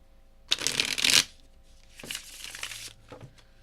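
Cards riffle close up in two quick bursts, a louder shuffle followed by a softer one, then a brief flick, without any talking.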